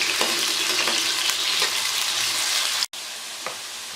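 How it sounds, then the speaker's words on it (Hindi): Potatoes fry in a pan with steady, close sizzling while a spoon stirs them, giving a few soft scrapes before a brief break and a quieter continuing sizzle. "तो इसी तरह मैं चम्मच चलाते हुए इसको फ्राई कर लूँगी।"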